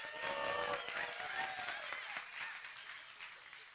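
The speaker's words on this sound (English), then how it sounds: "Let's give them a big round of applause." A live festival audience gives a round of applause, a dense wash of clapping that gradually thins and softens over a few seconds, with faint voices mixed in.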